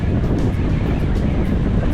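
Strong wind buffets the microphone on the seafront at Fleetwood during a sea fishing session, a steady loud rumbling roar with gusty bursts and no speech.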